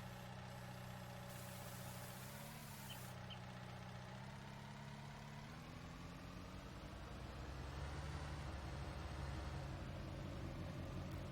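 A Bobcat S590 skid steer engine in Farming Simulator idles with a steady low rumble, holding a constant, fairly quiet hum with slight pitch shifts throughout.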